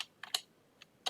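A few sharp, close clicks on a new computer keyboard, quick taps in small bursts separated by short pauses, quiet and with no voice.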